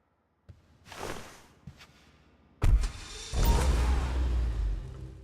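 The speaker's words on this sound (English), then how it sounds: "Startup sounds like any other car in this game." In Grand Theft Auto 5, a Principe Deveste Eight supercar is approached with a couple of soft clicks and thuds, then its engine cranks and catches with a loud burst, settling into a steady close rumble.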